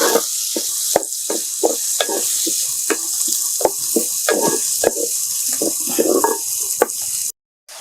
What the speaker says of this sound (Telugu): దాన్ని ఇప్పుడు మనము బాగా కలబెట్టుకుందాం